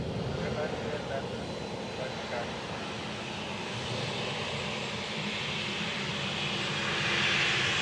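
Aircraft landing at Dublin Airport, a broad roaring engine noise swelling slightly toward the end, with radio talk running beneath it.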